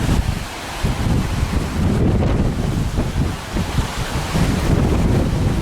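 Strong wind roars across a resort beach with crashing surf, heavy gusts buffeting the microphone in a loud, continuous wash with no voices.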